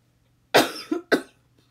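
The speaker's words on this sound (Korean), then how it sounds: "선생님이 잠시 기침이 나와가지고 멈췄네요." A teacher coughs during a home economics lesson on nutrition: one sharp close cough, a short catch, then a second cough, all in a quiet room with no talk.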